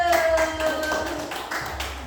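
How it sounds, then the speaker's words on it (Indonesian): Pupils in a classroom lesson clap for a group, giving a series of loose, uneven claps and taps close by, with a sustained tone and some background talk mixed in. "tepuk tangan buat kelompok 1"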